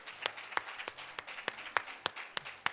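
A church congregation gives a hand clap of praise for the musicians during a worship service: a sparse, roughly rhythmic run of sharp claps, moderately close, with no talk over them.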